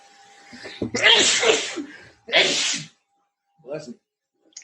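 A single sharp sneeze breaks out close to the microphone during an indoor interview, then a short burst of speech and a brief quiet reply follow.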